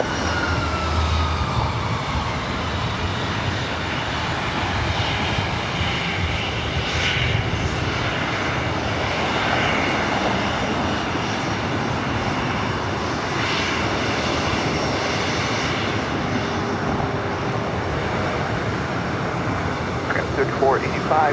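A Legion Air Airbus A319 jet at LAX makes a steady, moderately distant engine roar throughout, with a broadband rumble and whine, while a voice talks over it.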